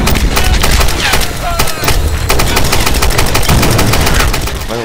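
Assault rifle fire in the Tomb Raider video game, loud continuous rapid bursts of shots with sharp booming impacts, sustained across the whole stretch.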